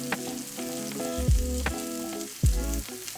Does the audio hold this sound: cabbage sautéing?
yes